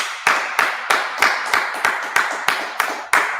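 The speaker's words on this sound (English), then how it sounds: "Let's clap it up." An audience clapping in unison, about ten sharp, evenly spaced claps at a steady rhythm, close and loud, with no talking over them.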